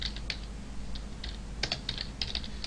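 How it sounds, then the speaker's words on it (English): Keystrokes on a computer keyboard tapping out Java code, a series of short clicks in irregular bursts over a low steady hum, close and moderately quiet with no talk. "Let me make sure I type this right."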